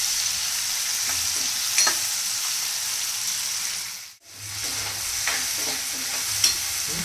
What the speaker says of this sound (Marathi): कांदा छान असा सोनेरी रंगाचा होईपर्यंत परतू द्यायचा आहे